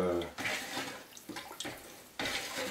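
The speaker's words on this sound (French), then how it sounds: "Alors on agite l'eau et on fait tomber donc la colle dans l'eau" Wallpaper glue powder is poured into water and stirred to a creamy paste for hanging glass-fibre wall covering during a ceiling renovation. Bursts of swishing, sloshing water are broken by brief pauses, and a voice is heard briefly at the start.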